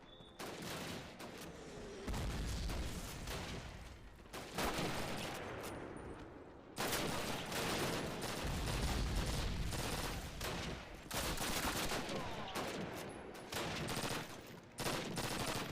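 A PPSh submachine gun fires long rapid bursts in the original 2003 Call of Duty, dense rattling volleys with short pauses between them amid other gunfire and battle noise.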